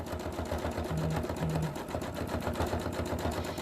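Sewing machine stitching raw edge appliqué, a rapid even mechanical chatter running steadily throughout, close up with no voices.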